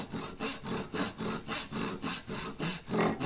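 Hand saw cutting a tenon in wood, a steady rhythm of roughly a dozen even rasping back-and-forth strokes, close and fairly loud, with no voices.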